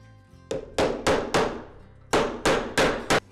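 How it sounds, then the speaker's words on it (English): Hammer blows drive a nail into a wooden bird feeder: seven sharp, ringing strikes in two quick groups of four and three, close and loud, with no talking. "So we're gonna add another nail on the back."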